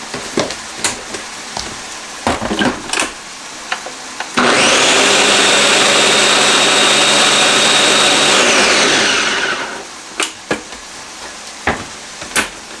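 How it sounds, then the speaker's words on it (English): A kitchen blender purees corn during a from-scratch burrito cooking session, a loud steady whirring roar that starts abruptly, runs about five seconds and winds down, with quieter kitchen clatter before and after. "I need to blend the corn up just a little more."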